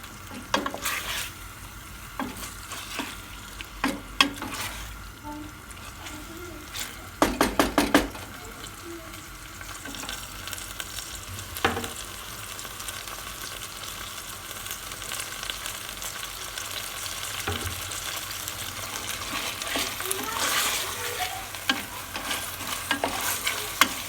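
Onions and peppers fry in a pan over raised heat with a continuous soft sizzle, punctuated by scraping stirs and clusters of sharp clattering knocks from the utensil against the pan.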